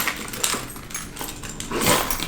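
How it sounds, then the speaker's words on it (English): A few keys clink and jangle as they go into a The Row Margaux handbag, with brief metallic rattles and soft shuffling close to the microphone and no talking. "2 of my keys"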